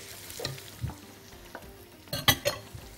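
Garlic and chard go into a hot pan, giving soft sizzling with a few scattered scrapes and clatters of stirring, and a brief louder cluster of knocks near the end.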